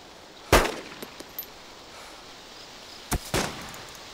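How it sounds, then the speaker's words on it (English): Gunfire in the Arma 2 DayZ mod: two sharp, loud shots a few seconds apart, each with a brief echoing tail, plus a few fainter distant pops over quiet background. "now those shots are definitely at me"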